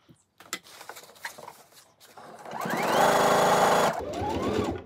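A sewing machine stitches a fabric tote bag, running in a loud, steady burst for about a second, pausing briefly, then starting again for a short second run.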